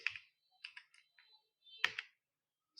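Keys on a computer keyboard tap in short, soft bursts of a few strokes each, with brief pauses between, close and quiet.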